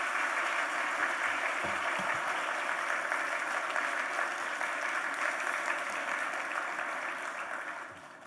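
Sustained applause from a church congregation, steady and fairly loud throughout, tapering off slightly near the end.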